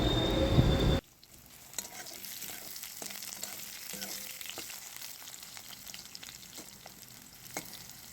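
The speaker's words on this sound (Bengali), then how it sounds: "লম্বা লম্বা করে কেটে নেওয়া আলুর টুকরোগুলো দিয়ে আলুগুলো ভেজে নিচ্ছি" Long-cut potato pieces fry in hot oil tempered with nigella seeds, a steady close sizzle with scattered small pops and crackles that continues throughout.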